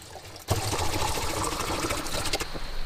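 Warm water pours from a measuring jug into a waste pipe, starting abruptly as a close, steady gushing splash that keeps running without speech.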